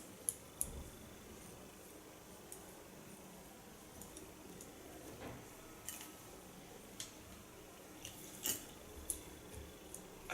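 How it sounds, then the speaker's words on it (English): Faint, sparse snips of hairdressing scissors cutting hair with a comb while shaping a short asymmetric pixie cut, scattered soft clicks over a quiet room hiss with no speech. "The comb is telling my scissor what to cut."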